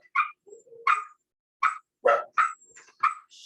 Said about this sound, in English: my dog thinks that that's an actual dog.